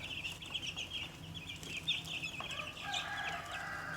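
A flock of about 125 meat chickens in a coop keeps up a dense, continuous chatter of clucks and high peeps, steady and moderately loud throughout.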